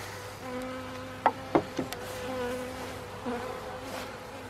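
Honeybees hum steadily around hives and small nucleus hives, a soft droning buzz with a few sharp knocks and taps breaking through.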